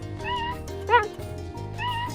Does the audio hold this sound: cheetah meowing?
yes